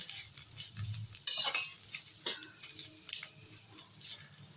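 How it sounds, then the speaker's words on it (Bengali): Prawn heads and ridge gourd peels fry in a pan on a gas flame while a utensil stirs them, giving scraping clinks and a steady sizzle with a sharp clatter near the middle. No one speaks. "একটু নেড়ে চেড়ে নামিয়ে দেবো"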